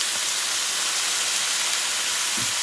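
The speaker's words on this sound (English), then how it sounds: "This steam is hot, by the way." Steady, loud broadband hiss of hot steam rising from a pot of rice with shrimp and tomato sauce, constant and close, with no talking.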